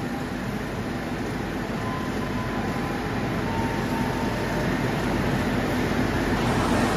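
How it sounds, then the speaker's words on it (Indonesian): An old air conditioning unit on the Sancaka Utara executive train roars loud and steady for the whole stretch, a broadband mechanical whoosh with a low rumble and a faint vibrating tone and no break. "Ini AC-nya sumpah berisik banget, teman-teman"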